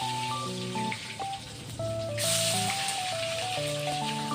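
Paneer pieces fry in hot oil in a kadai, giving a steady, close hiss and sizzle that runs under background music and grows louder partway through.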